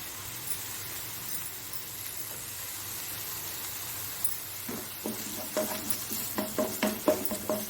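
Onions sauté in a pan for a Mangalorean crab masala fry, with a steady close sizzle throughout and a run of light clinks and stirring scrapes growing louder toward the end.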